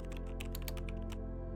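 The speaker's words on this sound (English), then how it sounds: "you can use a fast keyboard typing sound effect" Fast computer keyboard typing as a sound effect, a rapid run of close, crisp key clicks over a steady low hum.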